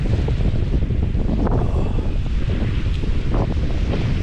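Strong wind coming off a lake buffets the microphone at a wild campsite in the Lake District, a loud, unbroken low roar with a surf-like rushing quality and no talking.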